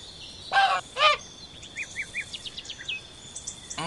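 Goose honks from a children's picture-book app game based on Oh, wie schön ist Panama, two loud honks followed by a quick series of shorter squawks and cackles, alone without talk.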